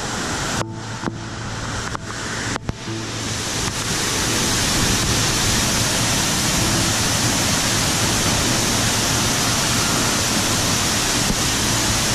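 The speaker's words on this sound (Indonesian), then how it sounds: "Air terjun ini merupakan rangkaian terakhir dari beberapa tingkatan di pegunungan Kabela." A mountain waterfall in the Kabela range, the last of several tiers, pours with a loud, unbroken roar that fills the whole stretch, with a few sharp knocks near the start.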